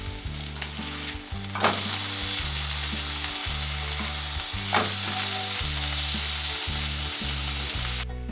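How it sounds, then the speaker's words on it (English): Two pork burger patties fry in a pan over low heat, producing a steady close sizzle with constant crackle, while music plays throughout. "Also brown the 2 pieces of pork burger on low heat for 7 minutes on"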